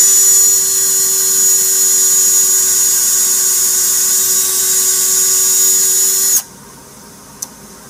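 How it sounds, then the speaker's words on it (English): A high-pitched power drill whines steadily at close range, drilling into wood, then cuts off abruptly, leaving near silence broken by a single small click. "he set the line for the screw to go into with a drill"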